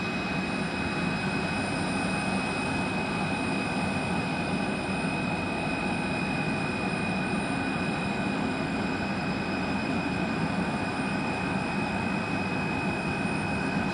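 Scoot Tiger Air jet airliner at Sam Ratulangi Airport in Manado, heard as a steady, unbroken engine roar with a thin high whine running through it for the whole stretch, with no voices.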